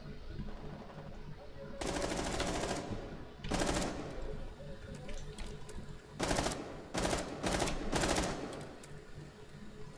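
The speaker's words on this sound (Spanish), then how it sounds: "¿Por qué está disparando ahí arriba?" Bursts of automatic gunfire in Rainbow Six Siege, several loud rapid-fire volleys of a second or so separated by quieter gaps, with a voice talking faintly between them.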